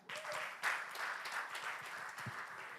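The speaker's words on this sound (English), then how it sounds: "Clap for cast team." A crowd at a social media convention breaks into applause, many hands clapping in a continuous, fairly even burst lasting under three seconds.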